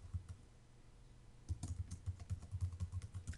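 Fingers typing a name on an iPad touchscreen keyboard, faint soft taps, a few at first, then a quicker run of taps.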